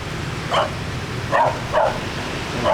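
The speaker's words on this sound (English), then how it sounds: "Barking at other dogs." A big dog barks four times at a distance in a city street, short gruff woofs spaced irregularly over a steady background hum.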